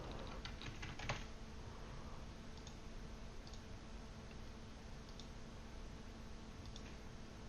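Quick bursts of keystrokes on a computer keyboard as a new folder is named, close and fairly quiet, with a few scattered clicks following.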